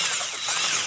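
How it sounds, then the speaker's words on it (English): A power drill whirs steadily on a roofing job, pre-drilling holes in metal roof sheets, a continuous close, bright buzz lasting the whole moment with no talk over it. "Just getting a drill bit out here to drill this"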